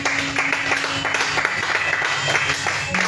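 A church congregation breaks into applause in acclamation, steady rhythmic clapping from many hands that stays even and moderately loud throughout.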